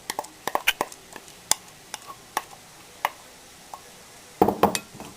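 A spoon clinks and taps against a bowl while sauce is mixed into macaroni salad, a steady run of sharp, fairly close utensil ticks ending in a denser cluster of scraping clatter.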